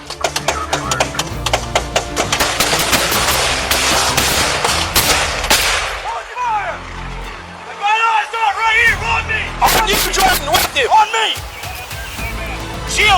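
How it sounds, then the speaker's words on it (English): Gunshots ring out in a wooded area during a police shootout as deputies return fire, a dense burst of loud cracks over the first six seconds, followed by urgent shouting voices and a few further scattered sharp bangs. "A sergeant is grazed in the head, and deputies return fire."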